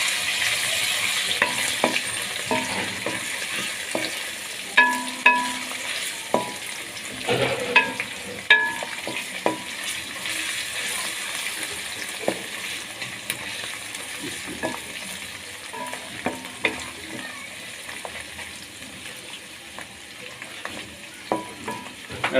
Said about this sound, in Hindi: अब हम इसमें अदरक लहसुन का पेस्ट शामिल कर देंगे।